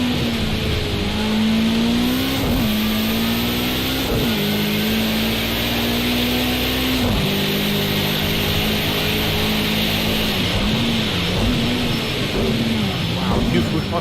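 Race car engine in a racing video game on a wet track, a steady droning tone that rises and dips with throttle changes and gear shifts, loud and continuous with speech over it.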